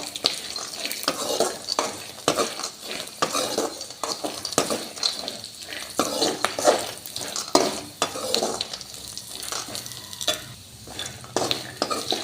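Peanuts and green chilies dry-roasting in a pan for peanut chutney, stirred continuously with a utensil, giving a busy rattling scrape and light sizzle, close and steady throughout.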